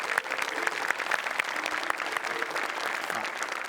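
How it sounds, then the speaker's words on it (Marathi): Sustained audience applause fills the whole stretch at a comedy stage show, a dense, even wash of many hands clapping at steady loudness with no talk over it. "एकदा जोरदार टाळ्या."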